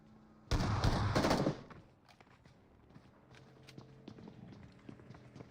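A short, loud burst of video-game gunfire lasts about a second, then quieter footsteps and small clicks and taps follow at a distance.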